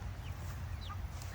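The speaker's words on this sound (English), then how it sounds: "I'm out here with the birds, well the chickens" Chickens let out to roam outdoors, giving soft, close clucks and brief chirps over a low rumbling background with no talking.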